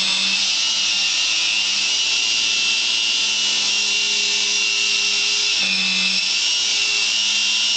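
Restored B-25 bomber tail turret running: a steady electric motor whine with a constant mechanical hum that holds evenly throughout, with a brief shift in pitch partway through as the mechanism moves, close and continuous with no talk.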